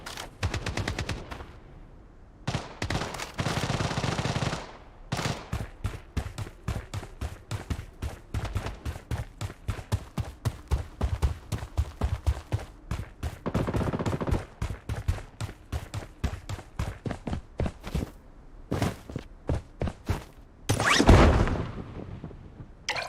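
Rapid automatic gunfire in the game Blodstrike, with loud, dense, sharp bursts repeating almost continuously and brief pauses between strings of shots.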